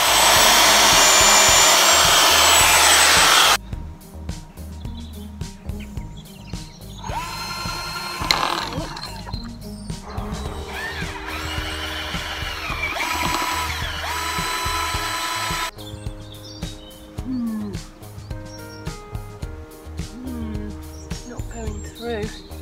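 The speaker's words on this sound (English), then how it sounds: "I'm going to drill a little bit of a hole there with my drill just to sort of help the first screw in" An electric drill bores a pilot hole in wood for long galvanised screws in a garden, a loud whining run at the start followed by quieter bursts of drilling and handling noise.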